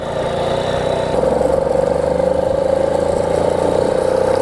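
An Indian Papoose, the WWII paratrooper motorcycle that had not run in over 40 years, runs steadily up close, its small engine puttering evenly with a faint rhythmic pulse.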